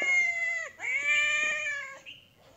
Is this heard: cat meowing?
yes